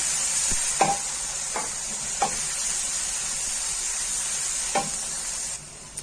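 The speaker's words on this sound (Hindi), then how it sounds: "हरी मिर्च और अदरक का पेस्ट भी ऐड कर देंगे। कुछ सेकंड के लिए इनको मैं फ्राई करूंगी।" Green chili and ginger paste, with garlic paste, fry in a pan for turnip and potato curry, a steady close sizzle broken by a few soft stirring scrapes.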